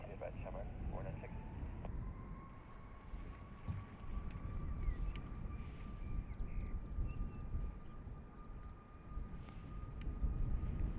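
Ryanair airliner at Dublin Airport, its engine drone a steady broad roar with a rising whine, moderately distant and continuous throughout, with faint radio chatter and bird calls in the background.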